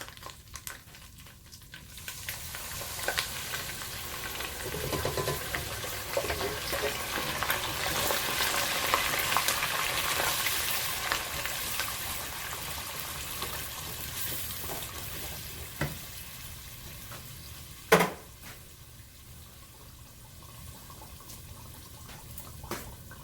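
Crushed tomato fries in oil in a pot for egusi soup, a soft, continuous sizzle that swells and fades as it is stirred, with scattered scrapes and one sharp clink.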